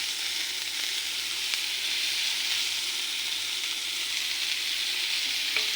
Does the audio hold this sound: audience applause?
no